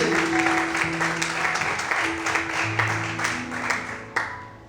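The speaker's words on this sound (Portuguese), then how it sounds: "Será que você pode aplaudir e glorificar ao Senhor bem forte nesta manhã?" Worshippers in a church clap along in a steady, pulsing rhythm over held keyboard notes, the applause loud at first and easing slightly before a final sharp clap.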